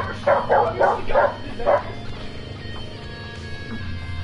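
A dog barks five times in quick succession, close and fairly loud, over a steady hum of background game sound, then falls quiet.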